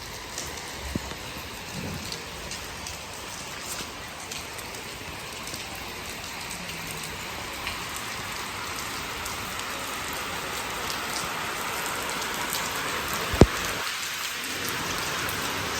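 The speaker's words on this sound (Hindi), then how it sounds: "कैसी ज़बरदस्त किस्म की बारिश हो रही है, यकीन माने।" Heavy rain pours steadily onto a rooftop, a dense continuous hiss with scattered droplet taps and a sharp knock near the end, no voices.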